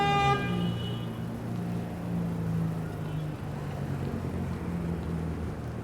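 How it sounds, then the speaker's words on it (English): Car horns honking in busy Brooklyn street traffic, a long sustained horn blast at first and then shorter toots over a steady roar of passing vehicles, moderately close. "Sure is an awfully large amount of honking around here."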